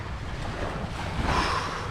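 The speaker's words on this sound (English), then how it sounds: "The water doesn't seem that choppy, but in a little 10-foot kayak, I am getting tossed around." Waves and choppy water slosh around a small 10-foot kayak near a pier, a steady close wash mixed with wind noise on the microphone, with no talking.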